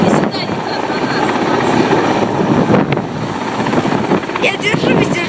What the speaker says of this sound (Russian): Полетел вертолетик!